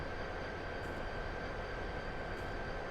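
A train running on the Chatham and Medway Valley lines in Train Simulator 2022, a steady low rumble of wheels and motor with faint high whining tones, quiet and continuous without talk.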